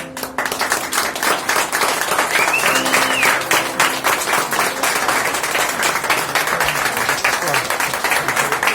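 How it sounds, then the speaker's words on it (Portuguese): A church congregation claps at a parish Festa do Divino celebration, dense sustained applause filling the room at loud level for several seconds, with a brief whistle-like tone partway through. "Vamos aplaudir,"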